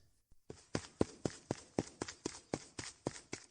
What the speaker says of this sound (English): Urgent, chaotic, panicked footsteps, like hundreds of people running in the street.